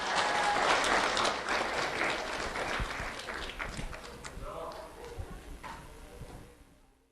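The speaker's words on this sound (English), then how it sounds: "Let's have a round of applause for Isabella Brothers" An audience applauds a student from Fort Myers Beach Elementary School at a recognition ceremony, a dense steady wash of clapping that slowly thins and fades out over several seconds.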